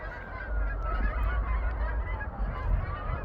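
A flock of geese calls over a field while getting ready to fly south. Continuous overlapping honks come from a moderate distance, with no talking.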